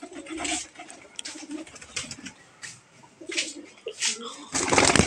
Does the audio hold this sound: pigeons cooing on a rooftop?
yes